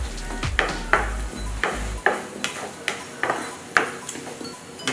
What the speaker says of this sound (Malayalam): ഇഞ്ചി ഗാർലിക് പേസ്റ്റ് ആഡ് ചെയ്ത് നന്നായിട്ട് മിക്സ് ചെയ്യാം.